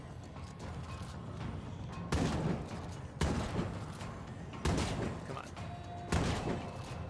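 Shotgun blasts from a survivor facing a Juggernaut zombie in State of Decay 2, four or five loud booming shots spaced a second or so apart over steady game ambience, with a brief spoken word between them.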